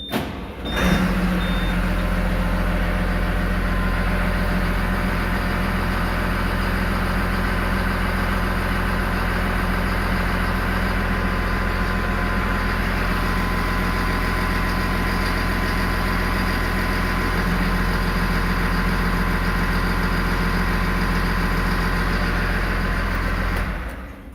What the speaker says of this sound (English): I'm just going to start up the engine